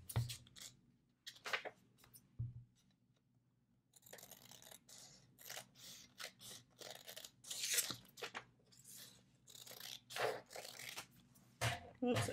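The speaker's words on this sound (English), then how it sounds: "I'm just going to trim some of this off." Paper being trimmed with scissors while assembling a fall-themed scrapbook tuck spot and ephemera holder, a series of close, crisp snipping and crunching cuts in irregular bursts, with brief quiet gaps and no talking.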